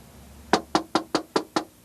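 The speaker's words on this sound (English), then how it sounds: "Oh, somebody's at the door." Six sharp, evenly spaced knocks on a door ring out close and clear in quick succession, with no talking over them.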